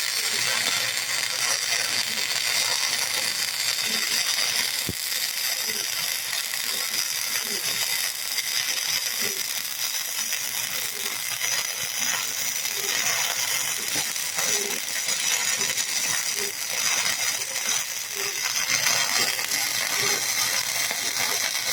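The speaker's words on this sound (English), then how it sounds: "I'll just hit along this edge of the link quick." A Titanium Flux 125 flux core welder runs a bead along the edge of a steel link, giving a continuous close, crackling hiss with faint rhythmic clicking throughout.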